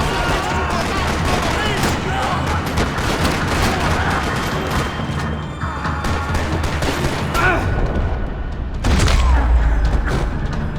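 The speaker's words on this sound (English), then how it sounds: "Another parking lot rattling with gunfire." Dense bursts of gunfire rattle on continuously in a parking lot in the video game Max Payne 3, amid booms and effects, with shouted voices mixed in; a heavy low thump lands near the end.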